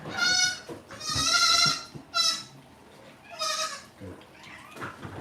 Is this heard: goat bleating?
yes